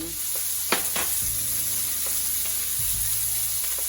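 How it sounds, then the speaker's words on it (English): Onion sizzles steadily in hot oil as it is stir-fried, with a few sharp pops and crackles and the scrape of stirring; no talking. "I'm going to start by stir frying my onion."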